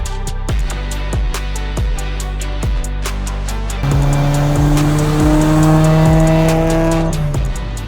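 Nissan R34 Skyline sports car engine revving and accelerating nearby, loud and rising in pitch with rapid repeated revs early and a sustained climbing roar afterward.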